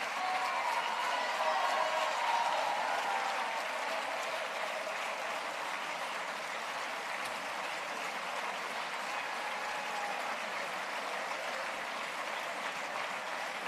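Sustained applause from a concert audience for a wind band at the 2023 Altea band competition, a steady dense clapping that fills the room throughout, with no talk over it.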